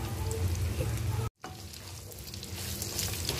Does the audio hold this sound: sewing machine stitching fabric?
no